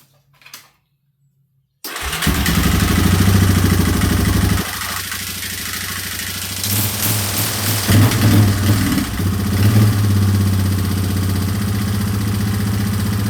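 A quad ATV engine cranks and fires up after a short quiet moment, then runs loud and close at a steady rough idle with slight revving surges, with no talking over it.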